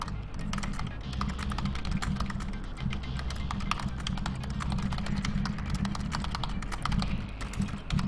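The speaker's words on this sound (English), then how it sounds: "Alright, you can't see what I'm typing." Steady computer-keyboard typing runs the whole way through as quick, even keystrokes close to the mic, with a low hum underneath and no voices.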